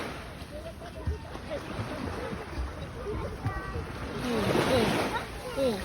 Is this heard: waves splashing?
yes